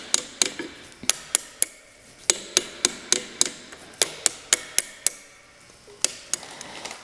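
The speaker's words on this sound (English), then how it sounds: "I'm just going to use a brass hammer to tap this in there" A brass hammer taps a brake pin into a Cub tractor with about twenty sharp, close metallic knocks, first in quick bursts, then in a steadier rhythm with short pauses.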